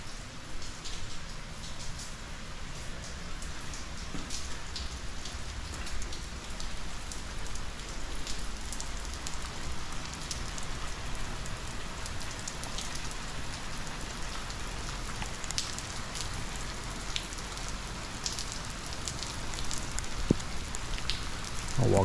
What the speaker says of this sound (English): So we did get some rain today